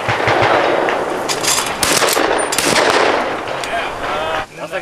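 Rapid, loud shotgun blasts at a clay shooting range, overlapping shots and echoes filling the clip, with faint voices between them.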